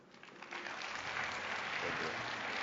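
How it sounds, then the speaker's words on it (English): Audience applause at the 2018 Jeju Forum, swelling from a light start into a steady, full round of clapping that holds loud to the end, with no talk over it. "please welcome them with a big round of applause"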